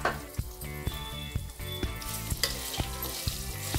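Green chillies fry in oil for coconut rice, giving a steady close sizzle over a faint music-like tonal bed, with regular soft knocks of a spoon against the pan.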